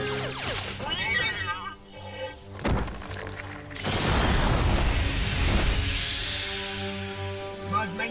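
Robot cats in the animated cartoon Galactik Football give warbling, synthetic meows with swooping pitch, broken up by heavy thuds and a crash, all loud and close.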